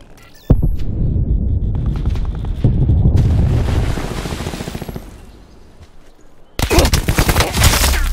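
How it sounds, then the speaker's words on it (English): Cluster grenade and automatic gunfire in a Call of Duty Black Ops 4 multiplayer match: a sudden loud blast, then sustained rapid rattling gunfire, another burst of shooting near the end, with a voice talking faintly. "Cluster grenade going out."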